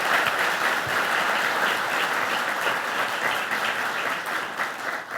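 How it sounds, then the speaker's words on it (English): A crowd applauds loudly and steadily from start to finish at an awards ceremony, a dense wash of clapping with no break. "Could we give them a round of applause,"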